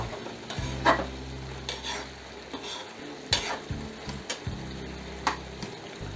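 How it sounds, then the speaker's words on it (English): A spatula stirs a thick dry fish curry in a pan under a constant bubbling sizzle, giving repeated scraping strokes and a few louder knocks against the metal, close up, with no talking. "open the lid, mix it well"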